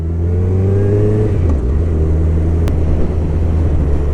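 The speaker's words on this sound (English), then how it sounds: "It's an up and down quick shifter on this bike, and we've just gone all the way up to 6th gear there without using the clutch" 2021 Suzuki Hayabusa motorcycle accelerating hard, engine revving loud and close with rising pitch and quick clutchless upshifts through the gears toward sixth, steady roar throughout.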